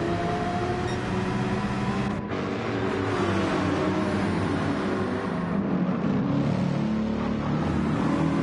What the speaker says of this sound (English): you can hear there the grunt of that Mercedes